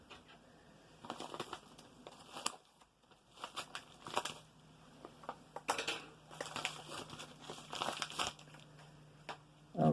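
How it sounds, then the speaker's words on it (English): Scissors snipping and crinkling through a mailed package of sports cards sent from the U.K., with irregular bursts of close cutting and rustling plastic over a quiet room. "Okay, scissors are called for."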